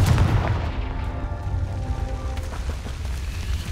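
Confringo blasting spell going off in Hogwarts Legacy: a heavy booming blast at the start with a deep low rumble, then crackling debris and a lingering rolling tail.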